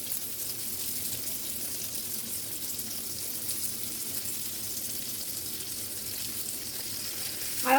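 Ground beef burger patties frying in a pan, a steady broadband sizzle that holds at an even level throughout, with a brief louder rise at the very end.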